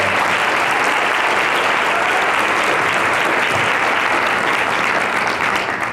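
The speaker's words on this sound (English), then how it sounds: "Give them a round of applause." Loud, dense applause from a large festival audience fills the whole stretch, steady and continuous with no pauses.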